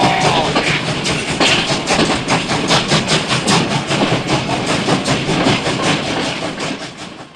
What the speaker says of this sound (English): Get that locomotive running, baby. Train. All aboard.